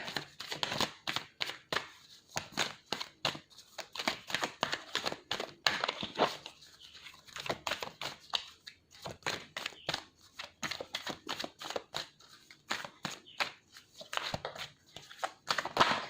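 Tarot cards are shuffled by hand in a slow run of soft, irregular riffling and crisp flicks, close and fairly quiet, with no talking.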